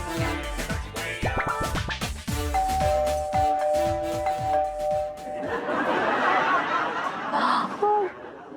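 A two-tone doorbell chimes repeatedly with ringing, sustained tones, then fades into a busier, noisier stretch with faint background voices.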